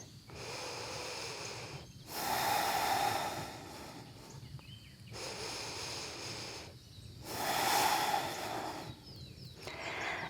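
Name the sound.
deep breathing during yoga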